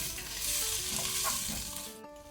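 Ginger garlic paste fries in a pan for a chicken palak gravy, a dense close sizzle with scraping stirs, steady and loud, then cutting off briefly near the end; no voices.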